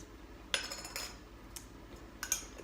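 Metal measuring spoons clink lightly in a kitchen while cinnamon and pumpkin pie spice are measured, a few sparse, bright taps and jingles close by with quiet gaps between.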